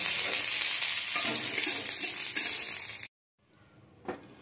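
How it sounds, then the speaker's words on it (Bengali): Panch phoron spices, dried red chillies and bay leaves crackle and sizzle loudly in hot mustard oil for about three seconds, then cut to near silence before a brief clink. "তেলটা যেই গরম হয়ে যাবে তার মধ্যে দিয়ে দেবো 5 ফোড়ন, 2টো শুকনো লঙ্কা আর 2টো তেজপাতা"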